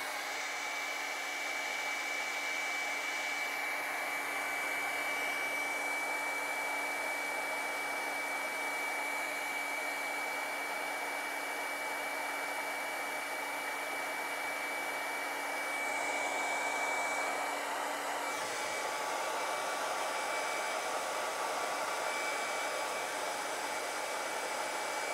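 A hair dryer blows steadily on an Inktense watercolor painting that is buckling from wet paint, a continuous close whir lasting the whole stretch with a slight shift in pitch partway through, no voices.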